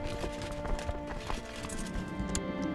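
Galloping horse hooves in the Crusader Kings 2 strategy game, a close rhythmic clip-clop of hoofbeats over light ambient game music.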